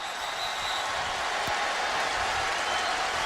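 A packed football stadium crowd roars continuously and loudly at a TCU Horned Frogs versus Baylor Bears game, a dense, unbroken wall of noise.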